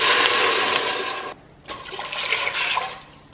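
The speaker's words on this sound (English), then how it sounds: "Add 4 cups of water." Water pours in a steady rushing stream into a pot for Slovenian zelna juha, cutting off briefly near the middle before resuming and gradually easing toward the end.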